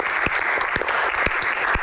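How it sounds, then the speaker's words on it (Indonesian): A live audience at an Indonesian Q&A event applauds someone speaker with steady, dense clapping that fills the room from start to finish, with individual sharp claps standing out now and then. "tepuk tangan luar biasa untuk Ibu Halida"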